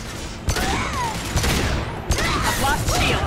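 Gunfire from the video game Mass Effect Andromeda comes in sharp bursts and booms amid busy combat noise, loud and close, with a voice briefly audible among the shots.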